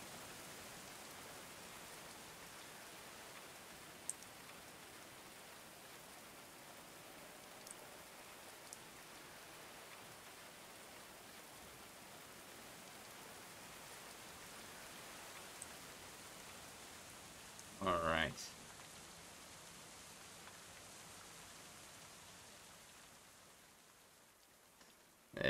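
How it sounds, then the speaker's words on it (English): Rain falls steadily as a soft, broad hiss in the medieval colony-building game Going Medieval, faint and unbroken, with a brief louder chime-like blip partway through. "Rain's dying down a little bit in the morning, which is great for us"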